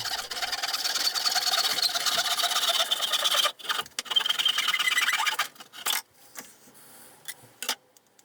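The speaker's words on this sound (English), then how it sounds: "The last job was to cut this piece of dowel." A piece of wooden dowel marked at a slight angle is cut with a power tool, a high buzzing whine that runs steadily for several seconds, then breaks into short bursts and stops.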